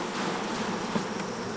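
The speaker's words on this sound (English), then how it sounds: "I'm just gonna shake the bees out on this one." Honey bees shaken off a frame of capped brood and bee bread hum in a dense, continuous close buzz, steady throughout.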